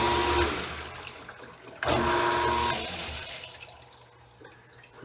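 A Hartell LTA 1UL utility sink pump switches on after repair and pumps water out of the basin, with an abrupt start, a whooshing, gurgling rush of water and a fading, steady hum.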